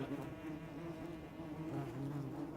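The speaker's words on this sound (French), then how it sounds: "Et tous ces vrombissements, ces bruits de vol que l'on entend, ne sont que des guêpes." A continuous low droning hum of many wasps from a colony nesting under a rock, buzzing in flight, steady and fairly faint, with no voices.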